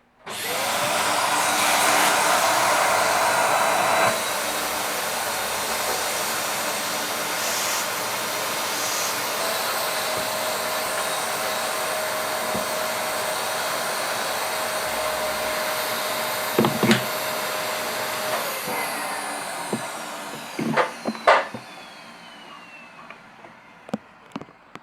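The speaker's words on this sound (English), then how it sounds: "I'll hoover this out first. Now, I have a Dyson here." A Dyson vacuum cleaner hoovers out the fuel tank of a Honda Bros NT400 motorcycle, a loud steady whine that starts abruptly, drops slightly in pitch, then winds down with clunks and knocks as the nozzle moves around the metal.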